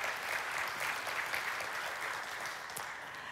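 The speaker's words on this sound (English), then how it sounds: "The level of applause in this auditorium shows us that we all know people that deal with this issue." Audience applause fills an auditorium during a church service, a steady dense wash of many hands clapping at even loudness throughout, with no voices standing out.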